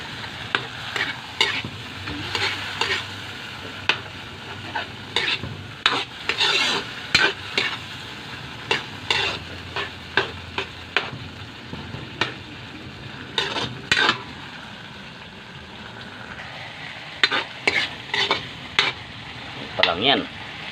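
An eggplant dish fries in a pan with a constant sizzle, punctuated by frequent scraping, clinking stirs of a utensil against the pan at close range.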